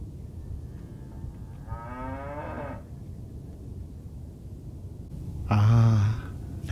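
A cow moos twice in a quiet setting, the first low drawn-out call followed after a pause by a louder, closer one.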